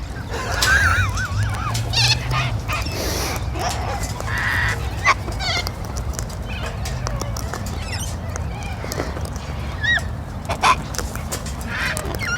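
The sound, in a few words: parrots squawking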